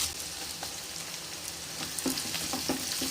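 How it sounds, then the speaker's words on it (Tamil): Onions and curry leaves frying in a pan, heard as a close, steady crackling sizzle with sputtering pops that get busier toward the end. "இப்போ நம்ம வந்து வெங்காயம், இப்போ நம்ம வந்து கருவேப்பிலை போட போகிறோம்."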